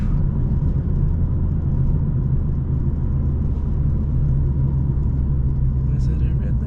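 Steady low rumble of a turbocharged BMW M2 engine while driving on roads after a snow storm, heard from inside the car as a continuous loud drone with voices talking over it.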